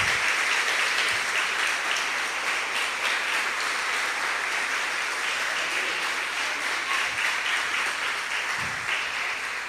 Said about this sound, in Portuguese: Aplauda ao Deus de Israel, ao Deus de Abraão.